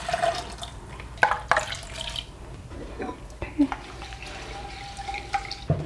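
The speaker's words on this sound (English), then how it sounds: "And then the black rice with 2 cups of water all goes in." Two cups of water pour into a cooking pot holding black rice in a home kitchen, with uneven splashing and dripping, fairly quiet and close, as a person talks over it.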